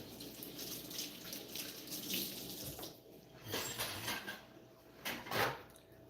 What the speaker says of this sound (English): I'm gonna wash my hands from washing this.